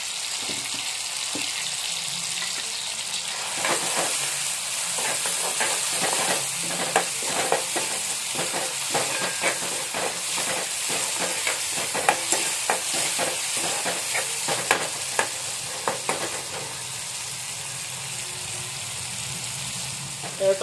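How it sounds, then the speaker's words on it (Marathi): Tomatoes sautéing in a pan with salt until soft, for a spicy Malvani non-veg dish cooked in a village kitchen: a steady close sizzle broken by repeated spatula scrapes and stirring clatter. "तर आपण टोमॅटो जरा नरम होईपर्यंत घालूया"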